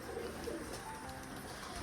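Domestic pigeons coo softly and steadily, a low murmuring sound that stays faint and distant throughout, with no voices.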